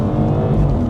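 BMW M240i fitted with an aftermarket exhaust and low-line kit, its engine and exhaust roaring loud and close in a deep, steady drone during a short burst of acceleration.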